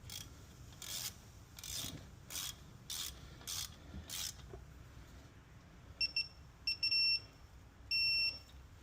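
A wrench ratchets a bolt on a Tesla Model 3/Y rear brake rotor: six quick rasping clicks in a row, then several short high beeps, close and quiet with no talk.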